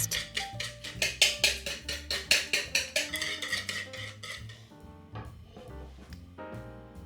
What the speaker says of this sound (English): Whisk it all up, just until it's nicely mixed